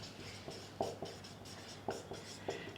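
Marker or chalk writing on a board during a chemistry lesson on sulfuric acid and insoluble sulfate precipitates, with a steady series of faint strokes and taps and a low background hum.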